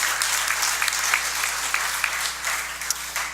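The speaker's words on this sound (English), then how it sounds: "So how about a round of applause for all of our participants?" Audience applauds panel participants at a business council session on green technology for the built environment, a steady wash of clapping with scattered sharper claps throughout.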